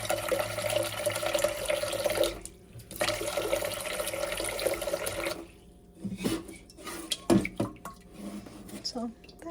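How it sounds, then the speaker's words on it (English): Tap water pours steadily into a cooking pot for several seconds, then shuts off, followed by clinks and handling sounds. "So I'm just gonna fill this with some water."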